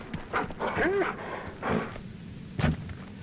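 In the game Journey to the Savage Planet, a running player character with a dog-like voice pants and yips in short bursts separated by pauses, fairly close and clear.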